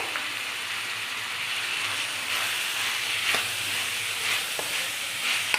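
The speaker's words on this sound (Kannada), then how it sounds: "ಎಣ್ಣೆಲೇ ಫ್ರೈ ಮಾಡಬೇಕು ಚೆನ್ನಾಗಿ" Ingredients frying in oil in a pan for egg rice, a steady close sizzle with faint stirring scrapes and occasional light clicks, continuous and fairly loud.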